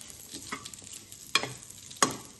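A spatula stirs and roasts dink ladu ingredients in a pan, soft dry scraping with two sharper scrapes standing out, close and fairly quiet with no talking.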